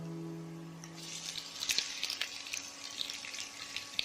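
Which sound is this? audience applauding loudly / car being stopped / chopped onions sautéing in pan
chopped onions sautéing in pan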